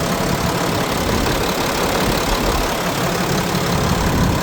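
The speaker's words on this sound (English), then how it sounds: "Listen to that engine." A 2014 Peterbilt 348 flatbed truck engine idles loudly and steadily nearby, a constant rumbling drone with no speech.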